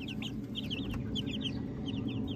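King Arthur bloodline gamefowl chicks peeping and clucking in a cluster, steady chirps over a constant farmyard background hum, fairly close.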